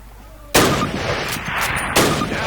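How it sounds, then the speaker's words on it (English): Two loud, sharp gunshots from a Springfield rifle in a Call of Duty training range, each a hard crack with a lingering echo tail, the second about a second and a half after the first. "Grab up a Springfield rifle from the table, switching it for your carbine. Turn to the left, move to the fence, and fire 2 rounds at your target."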